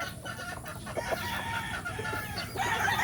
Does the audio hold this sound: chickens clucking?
yes